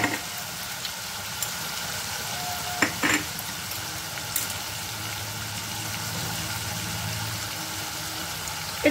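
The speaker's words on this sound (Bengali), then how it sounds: "এটাকে এখন আমি কষিয়ে নিচ্ছি।" Turmeric, chili and salt paste fries for chicken keema, giving a continuous close sizzle and bubbling that holds steady for several seconds. A few faint clinks of stirring break it, and there is no speech.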